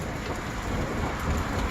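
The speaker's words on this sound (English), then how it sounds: "You hear that? There's thunder." Steady heavy rain pouring outdoors on a warm spring day, with a low rumble of thunder blended into the constant hiss, loud and close throughout.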